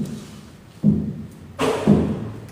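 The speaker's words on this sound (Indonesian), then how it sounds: "Kalian dengar enggak ada suara ketukan?" Two dull knocks or thuds sound inside an abandoned pharmaceutical factory, each an abrupt low impact with a short decaying tail, the second louder and brighter, heard alone in a quiet, echoey space.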